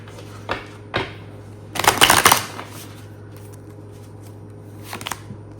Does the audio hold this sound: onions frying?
no